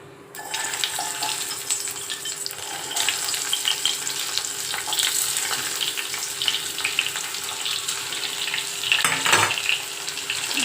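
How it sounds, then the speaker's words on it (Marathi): Stuffed bitter gourds (karela) frying in hot oil in a wok: a loud, continuous sizzle and crackle close up, rising in a sharper burst near the end. "तेल मी टाकलं कढईमध्ये आपलं तेल पण गरम झाले आणि दोन पळ्या तेल टाकले मी आता आपण कारले"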